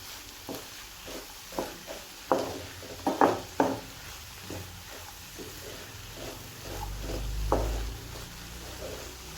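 A spoon scrapes and taps against a pan while spiced masala for green peas egg curry is stirred, giving a series of irregular soft clacks over a faint sizzle, with no voices.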